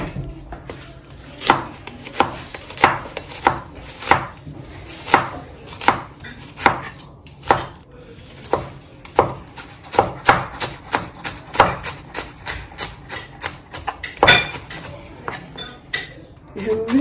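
Onions chopped very fine with a knife on a board, a quick steady run of crisp, close knocks that keeps going with no speech.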